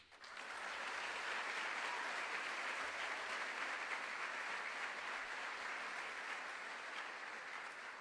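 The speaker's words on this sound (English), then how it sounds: "Please give a round of applause to these seniors who have embodied what it means to have a personal responsibility in developing excellence" An audience at a high school honors night gives sustained applause for honored seniors, a steady, even wash of many hands clapping heard from a distance, rising quickly and holding level throughout.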